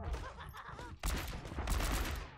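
Rapid video-game gunfire from an Overwatch match, a fast crackling stream of shots that thickens into a dense burst partway through, close and fairly loud over game background noise.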